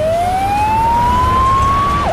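Ambulance siren in a toy-play scene, a single loud, steady rising wail held for about two seconds before dipping sharply at the end, heard alone without talk.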